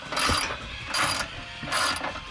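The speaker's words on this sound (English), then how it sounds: "we're gonna have to take off this 12 millimeter nut" Ratcheting a 12 millimeter nut loose on a 2017 Toyota Tacoma frame while fitting steel skid plates: three bursts of rapid metallic ratchet clicks, close and fairly loud, separated by short pauses.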